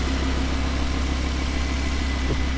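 A 2018 Audi R8 V10 Plus quattro's naturally aspirated 5.2-litre V10 runs at a steady idle, a close, even low hum with no voices.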